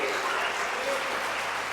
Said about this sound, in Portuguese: Aplauda bem forte, aplauda com fé, aplauda fazendo barulho, glorificando a Deus.